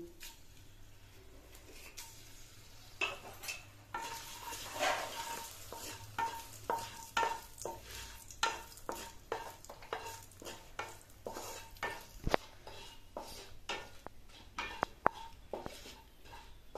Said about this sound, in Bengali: শুকনো লঙ্কা, 5 ফোড়ন, চিনি ভাজা হয়ে গেছে